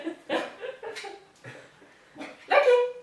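A dog barks in short bursts in a home, several yips and barks spread across a few seconds, close and moderately loud, with a louder, higher bark near the end.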